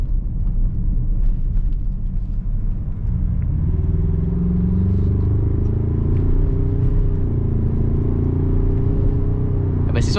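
Ford Ranger Raptor 2020 pickup engine rumbling steadily up close while driving off-road in four-wheel drive, a low continuous drone that swells slightly partway through as the truck pulls harder.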